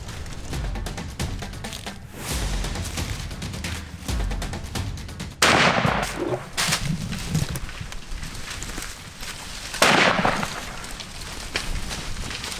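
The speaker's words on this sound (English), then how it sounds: "Okay, shoot him again. Shoot him." Rifle gunshots ring out during an elephant hunt in Africa, with two sharp loud cracks standing out above continuous rustling and outdoor background noise.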